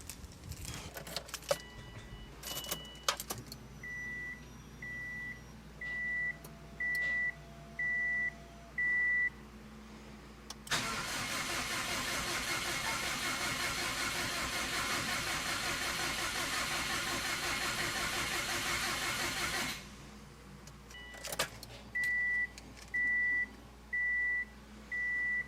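Fully built Subaru WRX engine cranking over for the first time, with a loud sustained burst of starter and engine noise for about nine seconds, bracketed by rhythmic electronic beeps and light clicks and jangling before and after.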